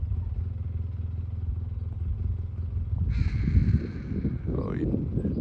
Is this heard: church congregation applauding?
no